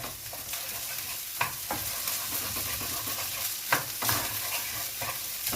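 Fried rice with carrots, shrimp, egg, soy sauce, salt and pepper is stirred in a hot pan, a continuous sizzle of frying broken by repeated scraping strokes of the spatula, close and steady without talking.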